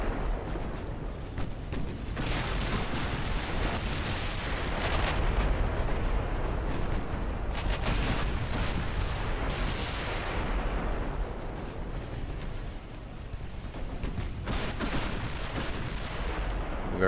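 Battleship secondary guns fire in Ultimate Admiral Dreadnoughts during a British 1900 naval campaign: a dense, continuous barrage of booming shots and rumbling blasts that roll on without pause for the whole stretch.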